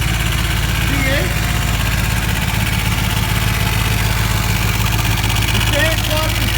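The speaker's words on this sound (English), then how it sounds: "The fan clutch is rubbing against the shroud. A little bit of a rattle there at the back." A 1990 Dodge D150 pickup with a 5.2 liter V8 idles loud and close, a steady low rumble with a fan clutch rubbing against the shroud and a slight rattle at the back.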